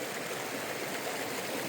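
A mountain stream at a Colorado campsite runs with a steady, close rushing flow, unbroken hiss and gurgle filling the short stretch without pause.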